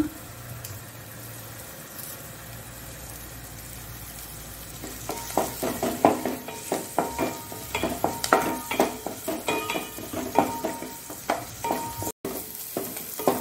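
Curry leaves frying in a pan for a Mangalore prawn coconut milk gravy: a soft sizzle at first, then brisk rhythmic stirring clatter over a steady crackle, loud and close, with no talk.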